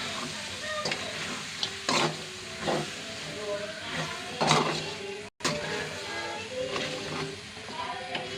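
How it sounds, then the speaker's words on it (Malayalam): Chicken curry with ginger and garlic frying in a pan, giving a steady loud sizzle and hiss, broken by periodic scraping strokes as it is stirred. "നല്ലപോലെ ഇളക്കണം."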